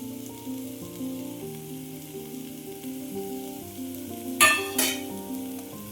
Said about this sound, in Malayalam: നല്ല ശരിക്കും മിക്സ് ചെയ്ത് യോജിപ്പിച്ചെടുക്കാം